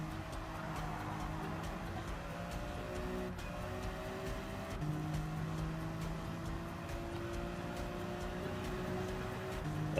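BMW M3 race car with engine droning in Gran Turismo 7, a continuous steady engine tone with gradually shifting pitch, rising and dipping through gear changes, heard alone at a consistent moderate level.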